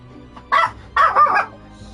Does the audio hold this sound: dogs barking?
yes